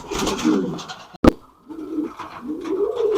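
Show king pigeons at a farm coo in low, throaty rolls close by. A sharp click breaks in briefly partway through.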